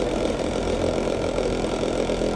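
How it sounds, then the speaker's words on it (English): A cotton candy machine spinning melted hard candies such as Starburst, Jolly Ranchers and Skittles runs with a constant low motor rumble and hum, steady and fairly loud throughout. "the machine seems to work a lot better now. It's still rumbly"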